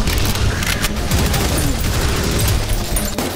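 Rapid gunfire and booming explosions from the fast boomer-shooter video game Prodeus fill the scene, loud and continuous with dense overlapping blasts.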